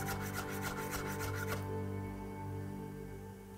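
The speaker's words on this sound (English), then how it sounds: "I'll just shred that very finely." A knife finely shreds prosciutto ham on a board, a quick run of close rhythmic slicing strokes for about a second and a half, then only a faint background hum, with no talk.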